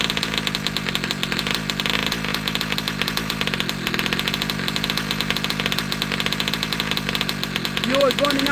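A 71cc ALX engine idles steadily at a raised idle setting, a loud, close, continuous chugging drone with a rapid even pulse that holds throughout.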